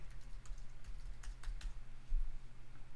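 Rapid, light typing on a computer keyboard, a close run of soft key clicks over about three seconds with no voices.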